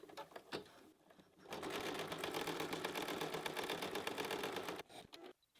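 An embroidery machine stitches the final line of an in-the-hoop bunny bookmark, a steady rapid mechanical whirr and needle clatter lasting several seconds, loud and close, with brief knocks before and after.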